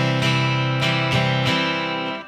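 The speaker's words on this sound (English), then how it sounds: "you can notice that the rhythm of the whole song can stop if your chord switching is a little bit rough" Acoustic guitar strummed in sustained chords, with four distinct strum attacks and brief hesitations as the chord changes break the rhythm before ringing out at the end.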